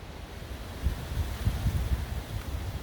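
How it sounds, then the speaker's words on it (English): Wind rushes through trees on a Northern Nevada road trip, a steady broadband roar with gusty low buffeting and rumble, close and continuous with no voices. "The sound of the wind in these trees is just so comforting and reassuring and invigorating all at the same time"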